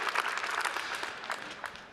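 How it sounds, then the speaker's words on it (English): An audience at the 2023 Leadership Summit in the Moda Center arena breaks into applause, a dense, continuous patter of many hands clapping for a couple of seconds before easing off slightly. "Let's give the Moda Center a round of applause."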